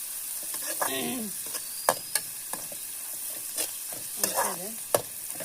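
Onions sautéing in a pan for a wedding-style meat curry, a quiet sizzle with intermittent scraping and clinking of a spatula against the pan, plus a few chirping sounds in the background.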